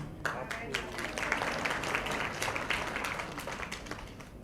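An audience at a Holi gathering claps after festival greetings, a scattered patter of many hands that rises and holds through the stretch, with a voice speaking over it.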